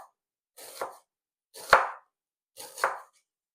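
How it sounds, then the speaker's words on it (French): A knife slices onions finely on a board, three separate crisp cuts about a second apart, each a short scraping stroke ending in a soft knock, close and quiet. "je vais venir émincer les oignons. Je vais venir les émincer vraiment très fins."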